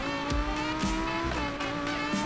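An Audi race car in the video game Need for Speed Payback revs hard, its loud engine note rising and dropping through repeated gear shifts, with faint tire squeal and no talking.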